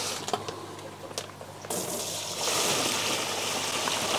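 Water from a poly box pours into a tank as nine silver dollar fish are tipped in, starting as a trickle then turning into a steady, loud splashing gush.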